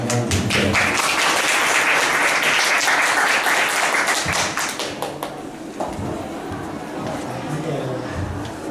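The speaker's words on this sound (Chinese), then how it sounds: "请大家掌声欢迎" An audience at a lecture event applauds loudly and steadily, dense clapping that fades near the end as a voice begins speaking.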